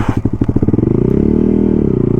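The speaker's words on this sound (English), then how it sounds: "I am just freaking ripping the shit out of this Grom" A Honda Grom motorcycle ridden hard through snow during an East Coast snowstorm, its small engine revving loud and close with a rapid pulsing beat that rises into a sustained drone, alone without talk.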